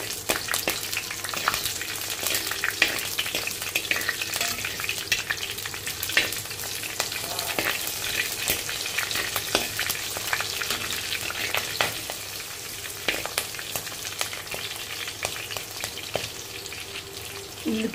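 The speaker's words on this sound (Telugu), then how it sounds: "ఇప్పుడు ఎండుమిరపకాయలు, పచ్చిమిర్చి కూడా వేసేస్తున్నానండి." Dry red chilies and green chilies fry in hot oil with curry leaves in a pan, a continuous close crackling sizzle with scattered sharp pops and occasional stirring scrapes.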